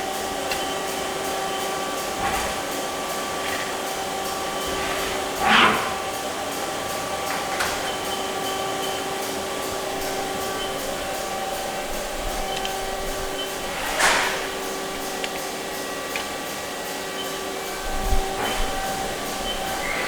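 A 2008 Haas SL-10 CNC lathe with collet chuck and hydraulic tailstock runs steadily with a continuous mechanical hum and whine, punctuated by a few soft knocks and clicks, heard close with no talking.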